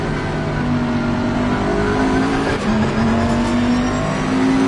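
Bentley race car engine in a racing video game, a loud, constant close-up drone with rising and falling pitch as it accelerates and shifts, no voices.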